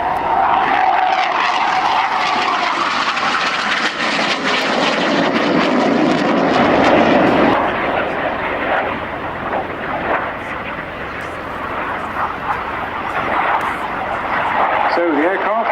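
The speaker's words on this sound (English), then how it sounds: "So the aircraft is derived from the Aero L-159A ALCA" An Aero L-159A ALCA jet flying a display at Yeovilton Air Day 2013, its engine a loud, continuous roar that swells and then eases slightly as it passes.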